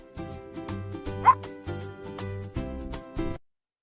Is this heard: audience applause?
no